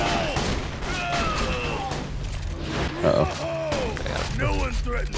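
Shotgun blasts in Borderlands 2, several sharp bursts spread across a busy mix of gunfire and combat noise, with people talking over the action.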